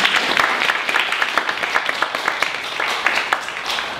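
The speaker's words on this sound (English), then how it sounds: "So why don't we give a big round of applause for Dr. Fixsen." An audience applauds at an information session, a dense crowd of many hands clapping loudly and continuously for a few seconds, with faint murmurs underneath.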